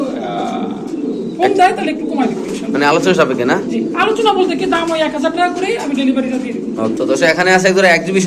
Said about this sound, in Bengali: কবুতর আসলে এক্সিবিশন কবুতর একদম হাই কোয়ালিটির কবুতর